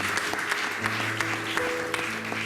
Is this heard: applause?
yes